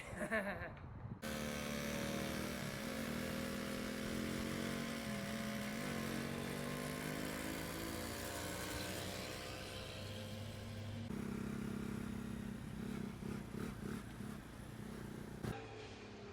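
Yugoslavian and Chinese mopeds ride through Belgrade streets, their small engines droning steadily and close throughout, with the pitch shifting as they change speed and traffic noise around them.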